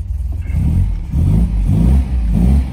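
A 1956 MGA classic sports car engine revs in low, throaty surges, rising and falling several times, loud and close with no voices.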